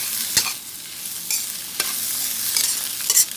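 Pre-fried Chinese sausage is stir-fried with rice in a hot pan, a continuous close sizzle broken by several sharp scraping clacks of the spatula, with no voices.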